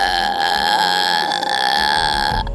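A child imitates a koala with a loud, close, sustained guttural bellow that sounds like a long burp, delivered as one unbroken call.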